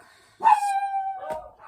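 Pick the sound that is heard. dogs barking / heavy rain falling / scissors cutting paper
dogs barking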